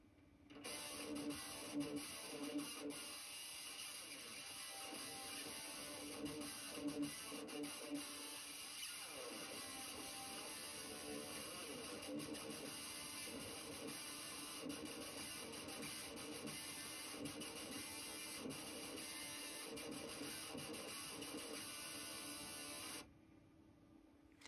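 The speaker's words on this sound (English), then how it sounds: "As you could hear, there is some noise from the fan, also some sound noise is audible." The cooling fan of a guitar amp loadbox runs at low speed, a faint steady whir with broad hiss and light hum that continues evenly before dropping away near the end.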